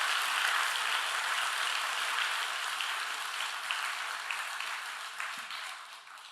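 A church congregation claps together in a dense, steady burst of applause that fills the room and slowly thins out toward the end.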